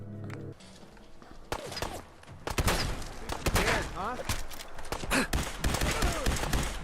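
Pipe pistol gunfire in Fallout 4, a rapid string of sharp shots and crackling impacts at close range, mixed with other game effects.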